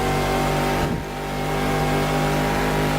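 A race car engine in a Le Mans racing video game drones loudly and steadily, dipping briefly as a gear shift cuts the power before it pulls again at full revs.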